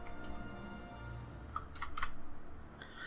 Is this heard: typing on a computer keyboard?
yes